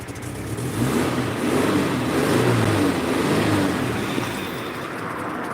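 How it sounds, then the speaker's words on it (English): A flat-four car engine idles and revs with a throbbing, burbling low rumble, swelling briefly then settling, heard up close without talk. "She sounds lovely. I think flat 4 engine"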